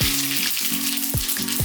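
Whole spices fry in hot oil for a shahi paneer biryani, giving a loud, continuous sizzle with a repeating scrape-like pattern as the pan is stirred.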